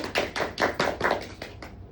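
A small group of people at a therapy gathering clap together to welcome a newcomer, several distinct bursts of hand claps close by, loud and uneven, fading out toward the end.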